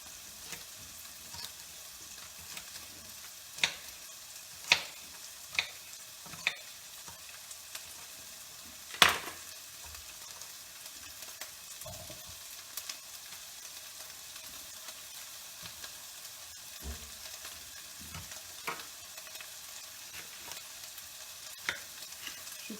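Sliced peppers fry in a pan on a gas stove, giving a steady, soft, close sizzle with occasional sharp utensil taps and clinks scattered through, and no talking.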